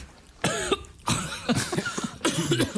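Someone who has just choked on a sip of water coughs in a string of harsh, close bursts with short gaps between them, loud and with no talk over it.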